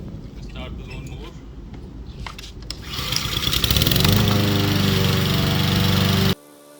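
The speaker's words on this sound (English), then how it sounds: "And we can start the lawnmower." A small petrol lawn mower engine catches after a quiet start, then revs up and runs loud and steady close by before cutting off abruptly near the end.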